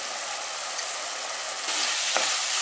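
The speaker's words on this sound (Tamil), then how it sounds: "இப்போ ரெண்டு நிமிஷம் அப்படியே கொதிக்கட்டும்" Dried fish thokku cooked with masala and garlic simmers and sizzles steadily in a clay pot, a continuous close bubbling hiss with a brief stirring scrape near the end.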